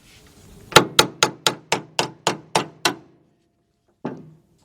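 Nine sharp, evenly spaced hammer blows knock a middle sliding-door roller out of its bracket on a 2008 Honda Odyssey 3.5, with the part held in a vise. A single final tap follows after a pause, and nobody speaks.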